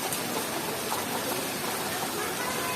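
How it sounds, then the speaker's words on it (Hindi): Heavy rain pours at the Gupt Mahadev temple at Pachmarhi hill station, a steady, dense hiss of falling water that fills the whole clip without letting up. "झमाझम बारिश हो रही है"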